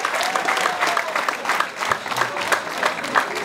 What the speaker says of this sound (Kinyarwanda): amashyi menshi rwose